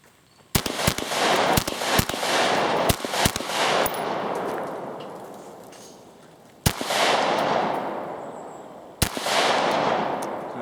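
A newly bought rifle, not yet zeroed, fires roughly a dozen sharp shots, first in a rapid uneven string and then as single reports spaced seconds apart, each trailing a long echo outdoors.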